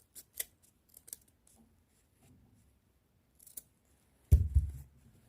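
Scissors cut satin fabric while a ruched headband is being made. A few quiet, separate snips come first, then one louder, close cut near the end.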